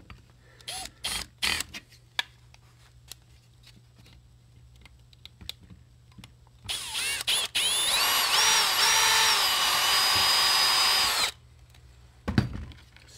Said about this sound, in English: Use a 2mm drill bit.